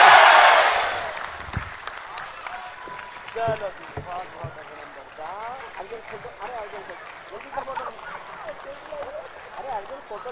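An audience bursts into loud applause for poet Hariom Pawar at a poetry recital; the clapping is dense at first, then quickly fades into scattered crowd noise and voices.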